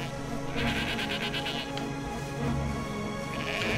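Goats in Valiant Hearts: The Great War bleating repeatedly, several wavering calls close by over a steady game background, no talk.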